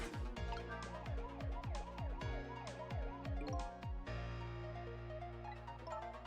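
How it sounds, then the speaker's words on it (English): Game siren from Ghost Trick: Phantom Detective, a repeating falling wail cycled steadily for about four seconds before giving way to a sustained musical tone, faint and alone. "Siren!"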